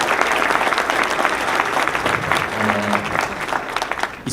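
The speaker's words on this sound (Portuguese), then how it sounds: "eu queria pedir uma salva de palmas mais uma vez por todos nós que estamos aqui hoje" Steady, dense applause from an auditorium audience at an innovation event in Florianópolis, holding at full strength throughout without breaks.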